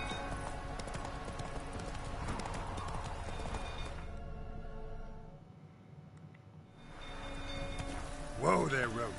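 Roach, Geralt's horse in The Witcher 3, with rhythmic hoofbeats under game music and ambience; the hooves fade out briefly mid-clip, then return, followed by a short snort or whinny near the end.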